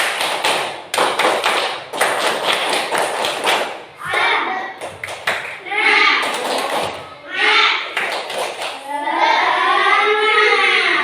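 Schoolchildren in an Indonesian classroom performing the 'tepuk semangat' clapping routine, a rhythmic burst of loud group claps and table thumps in patterned beats, followed by children chanting and shouting together.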